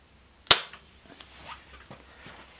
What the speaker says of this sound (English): let's test the air pistol out with the Falcon air pellets